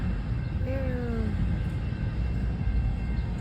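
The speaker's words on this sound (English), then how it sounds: "It's a long train, huh?" A long freight train rolls past as a steady, continuous low rumble, with a brief squealing tone early on and people talking over it.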